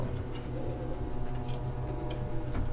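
Pet pigeons emerging from their loft, soft repeated cooing and low murmuring calls close by, with faint light taps and rustles in the background and no talking.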